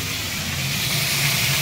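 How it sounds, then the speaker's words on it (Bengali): Fish head sizzling as it fries in hot oil, a steady close hiss with a faint low bubbling underneath, continuous and fairly loud with no voices. "তো এবারে মাথাটাকে ভেজে নেবে।"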